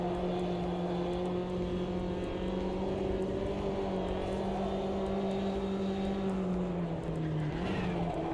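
Race car in Automobilista 2 under hard braking, its tires locked and squealing as a sustained high whine above the engine roar, pitch sliding slowly downward, loud and continuous.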